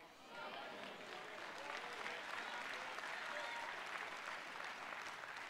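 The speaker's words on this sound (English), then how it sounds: "Y'all see how the claps got a little bit low on that point right there?" A church congregation applauds during a sermon, a dense, steady wash of clapping that swells in quickly after a brief quieter start and holds throughout, fairly loud with no clear speech on top.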